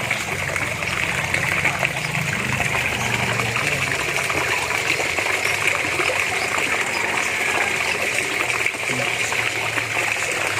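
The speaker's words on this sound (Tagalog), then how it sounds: "Maganda pag mataas para yung tubig mas malakas yung pagbaba." Water pours steadily from a raised DIY bucket filter into a backyard fish pond, a continuous rushing splash with no pauses, fairly close and moderately loud.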